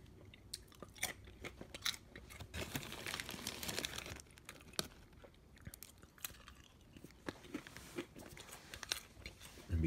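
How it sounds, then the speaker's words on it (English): Crunchy, lightly salted Soldanza Bananitos banana chips being chewed up close, with irregular crisp crunches and bites throughout. "And they chew like they're potato chips."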